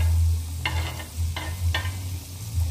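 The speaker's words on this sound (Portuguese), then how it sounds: "eu já vou colocar a calabresa pra ir ficando já junto com o alho. E ele refoga um pouquinho" Calabresa sausage sautéing with garlic on a slow stovetop burner, a low steady sizzle with a few quick spatula scrapes and stirring knocks over a humming background.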